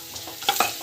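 Spices and rock salt sauté in a pan for a dal, with soft sizzling and a few scraping stirs of a spoon, close up and fairly quiet.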